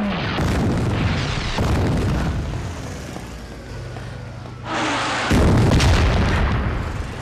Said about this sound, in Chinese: 日本对重庆的大轰炸又开始了